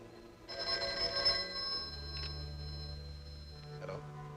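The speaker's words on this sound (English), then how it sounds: "I don't think the telephone bell is working. Will you test it?" A telephone bell in a 1949 movie serial rings in a bright burst, then gives a brief second ring and a short final chirp over a low steady hum, with no talking.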